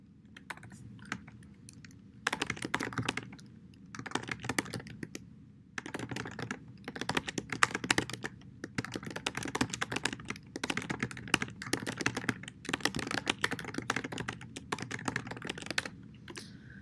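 Steady typing on a computer keyboard while writing notes, a dense run of close key clicks that pause briefly now and then, with no talking.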